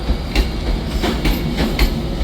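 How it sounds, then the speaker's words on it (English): An Avanti West Coast train departing Manchester Piccadilly for London Euston gives off a steady low rumble with rhythmic clickety-clack wheel beats over rail joints, heard close and loud with no voices. "departing right now is going to be the final train in this video, the 1414 Avanti West Coast service to London Euston"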